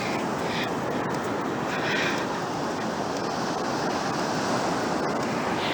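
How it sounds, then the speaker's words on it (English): Continuous rushing surf with waves breaking and washing in, steady and fairly loud, with some wind buffeting the microphone; no voices. "see these waves, man."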